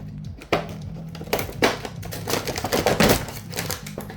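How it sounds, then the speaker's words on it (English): Scissors cut action figure accessories out of stiff plastic packaging, giving irregular crisp snips, crackles and clacks at close range with no talking. "I'm going to have to cut them out of the pack."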